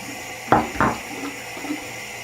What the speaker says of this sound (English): Fill up my bowl real quick.